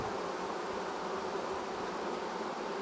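Honeybees buzzing inside a hive, a dense, steady hum of many wings that holds unbroken and close for the whole stretch.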